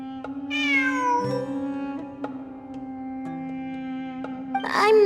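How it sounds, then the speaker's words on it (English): A cat in the Genshin Impact video game gives a few clear meows over a steady, soft musical background tone, the last call louder and more drawn out. "It really is a cat."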